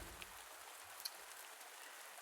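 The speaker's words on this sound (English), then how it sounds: "it's raining as well, so everything's watered" Rain falls steadily in the farming video game Pumpkin Days. It makes a soft, even hiss of drops at low volume with no voices over it.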